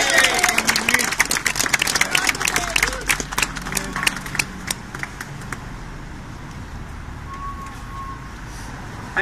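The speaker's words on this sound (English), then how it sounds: "Big round of applause for Mitch Van Dam!" A crowd at the 2018 Sydney Pride March claps and cheers in a burst of applause that fades after a few seconds, leaving quieter outdoor background noise.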